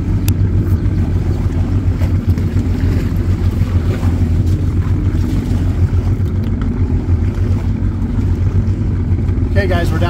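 A Kawasaki SXR 1500 stand-up jet ski with a 12F motor idles on its trailer, a steady low engine rumble mixed with wind buffeting the microphone throughout.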